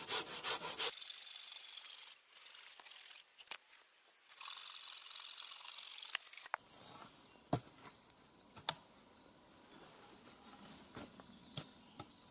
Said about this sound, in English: So I got my big lump of willow. I'm going to section it down now